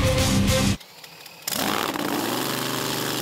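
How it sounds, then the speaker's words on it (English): A loud top fuel dragster engine rumbling at idle, cutting out briefly before roaring back with a heavy, steady drone. "that engine's idling at a horsepower level more than a IndyCar or a NASCAR"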